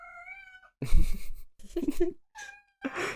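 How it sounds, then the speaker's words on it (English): A pet cat meows several times indoors, each cry short and close, with quiet pauses between them and a soft, breathy sound near the end. "I always thought when the cat meows, they need something."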